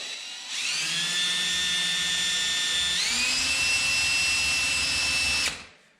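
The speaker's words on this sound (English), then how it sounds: "you always want to drill a weep hole in these" A power drill whines steadily for about five seconds drilling a weep hole in a sump pump pipe, its pitch shifting upward partway through as it bites in, then stops abruptly.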